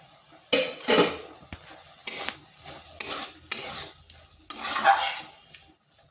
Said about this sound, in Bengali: এইভাবে নেড়ে চেড়ে নিতে হবে